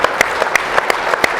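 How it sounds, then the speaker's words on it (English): Applause for a swimming broadcast producer at a USA Swimming Olympic Trials time standards announcement, a steady dense patter of clapping throughout the short stretch, fairly loud and close with no talk over it. "Everybody give a big round of applause"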